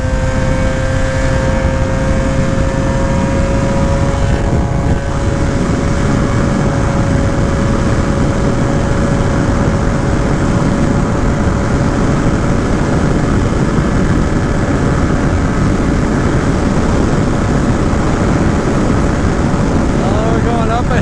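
A Gilera Runner 180 scooter engine accelerates uphill into a headwind, holding a loud, steady high-revving drone with a rising whine, heavy wind rush and a voice talking underneath.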